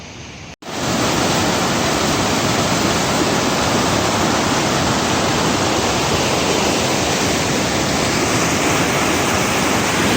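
Headwaters of the Arkansas River rush past close by in a steady, loud broadband roar of flowing water, continuous after a brief dropout near the start, with no voices.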